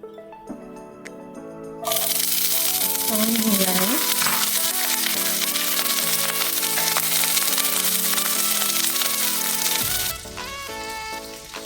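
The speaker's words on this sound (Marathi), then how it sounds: "पॅनमध्ये मी तेल छान गरम करून घेतलेलं आहे आता आपण त्याच्यामध्ये भाज्या तळून घेऊ फ्लॉवर आणि फणस बी" Cauliflower and jackfruit seeds drop into hot oil in a pan and burst into a loud, crackling fry. Before that, quiet background music plays, and the sizzle then continues strong and steady before easing back toward the end.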